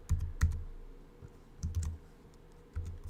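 Quick bursts of keystrokes on a computer keyboard as a website name is typed, clicks coming in short clusters with pauses between, close and fairly quiet, no voices.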